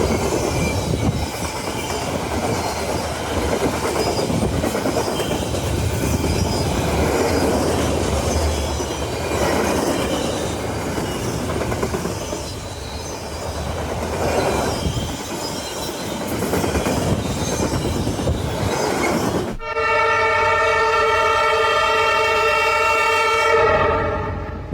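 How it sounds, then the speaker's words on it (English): A freight train loaded with military tanks rolls past, a loud continuous rumble and clatter of wheels on rails with squealing, ending in a strong sustained horn blast. "Tanks rolling by on a freight train, steel moving steel"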